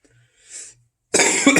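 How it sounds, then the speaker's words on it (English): A single person coughs loudly and close to the microphone, a short harsh burst of two or three rough coughs after a moment of near silence and faint breathing. "Again, apologies for the coughing."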